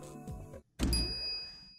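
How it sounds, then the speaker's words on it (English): A microwave timer in the Steins;Gate video game gives a bright ding after a brief pause, ringing out alone and sustaining as a steady high tone over low rumble. "In other words, we set the microwave for only 1 second."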